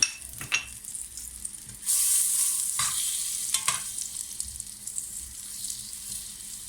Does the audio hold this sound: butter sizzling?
yes